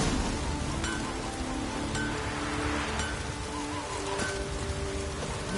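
Steady rain pours throughout a rainy scene in The Witcher 3: Wild Hunt on PS4, an even, continuous hiss with soft game tones faintly underneath.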